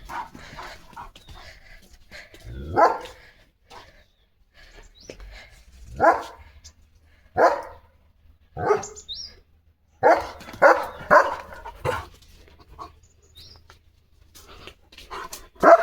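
A small dog yaps in short, scattered barks, some single and some in quick bursts of two or three, close by with quiet gaps between.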